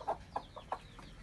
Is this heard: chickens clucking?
yes